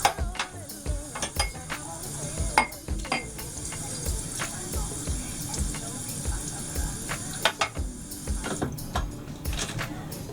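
A cup rinsed off in a cruise ship cabin sink: running water splashes alongside repeated sharp knocks and clinks of the cup against the basin, close by, in an irregular rhythm.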